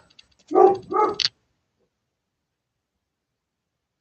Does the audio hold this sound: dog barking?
yes